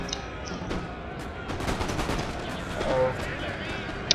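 Musket volley fire in Napoleon: Total War, a dense crackle of many overlapping gunshots rolling across a noisy battlefield, with a voice talking over the shots.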